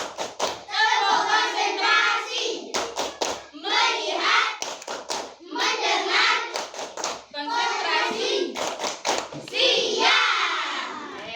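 Schoolchildren in a classroom clap hands in a rhythmic counted pattern, sharp close claps alternating with bursts of loud group chanting voices, repeating in several rounds.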